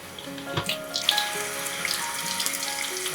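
Running tap water splashing as an old toothbrush is rinsed under it, a steady close stream with small irregular splashes, no talking.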